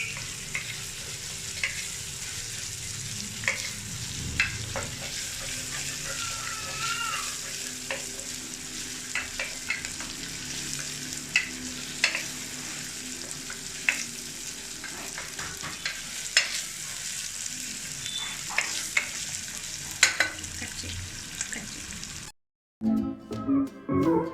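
Onions fry over a high flame inside a pressure cooker, giving a continuous close sizzle with frequent light stirring clicks and scrapes for a long stretch, then a brief silence and a short burst of noise at the end. No one talks.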